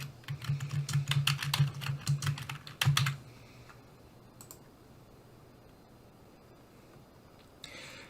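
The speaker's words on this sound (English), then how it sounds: "I'm just going to type a couple of keywords that are related to the concepts from my search" Quick, rapid keystrokes clatter on a computer keyboard for about three seconds, then give way to quiet room tone with a faint click near the end.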